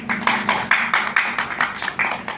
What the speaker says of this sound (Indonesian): Yuk tepuk tangan untuk anak-anak kita